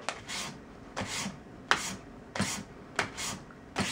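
Quick, rasping filing strokes shape the felt on Steinway L piano hammers, coming close and in regular bursts of about six or seven strokes with no talking.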